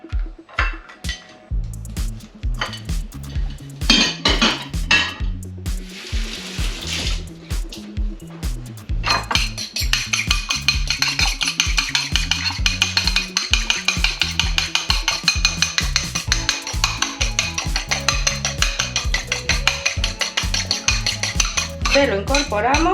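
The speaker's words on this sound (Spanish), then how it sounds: "batimos el huevo" An egg is beaten briskly in a bowl, a rapid rhythmic clinking and sloshing of utensil against the dish, under loud music that plays throughout.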